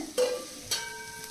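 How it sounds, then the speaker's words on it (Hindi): Chopped green beans tipped into a pan of sautéing spices for aloo beans sabji, giving two brief bursts of sizzling and stirring with a faint steady fry between. "जब ये इस तरह से भुन जाए तो हम डालेंगे इसमें ये बीन्स जो हमने काट के रखी हैं"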